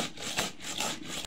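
Cumin being ground into a paste with a little water on a grinding stone, quick scraping and rubbing strokes, close and dry-sounding, over about a second with no voices.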